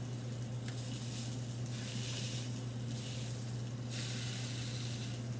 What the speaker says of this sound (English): we've got a good sizzle going on